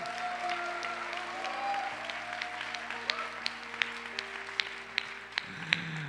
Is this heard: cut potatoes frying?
no